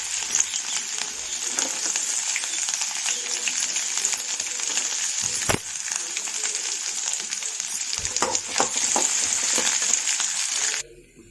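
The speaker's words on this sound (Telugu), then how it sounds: "నానబెట్టి కట్ చేసుకున్న బాదం పప్పులు ఫ్రై చేసుకుందాం" Soaked, chopped almonds fry in hot ghee with a steady, bright crackling sizzle. It stays close and loud throughout, with faint stirring clicks, then cuts off abruptly at the end.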